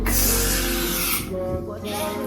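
Two bursts of hissing spray from a bottle of Vaseline spray as it is misted onto a separated section of hair during a braided ponytail styling, with a voice speaking underneath.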